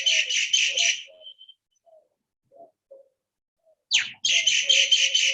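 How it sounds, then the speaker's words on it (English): Birds chirp outdoors in the morning in rapid trilling bursts, a loud run at the start and another at the end, with softer scattered calls in the quiet between. "Hear the birds in the background"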